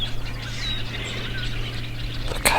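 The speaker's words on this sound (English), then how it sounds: "Lots of birds." Birds chirp and call in woods on a snowy morning, light scattered tweets over a steady low hum, with a brief louder rustle near the end.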